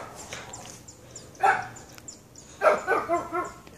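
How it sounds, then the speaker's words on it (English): A dog barks in two bursts outdoors, a single loud bark near the middle and then a rapid run of four or five barks close by, with faint background hiss between. "Why are you barking?"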